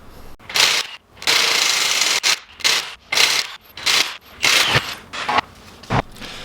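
Work on the front wheel of a BMW X5 4.8is (E53) produces a series of short, loud bursts of rubbing and scraping, roughly one per half second, with brief pauses between.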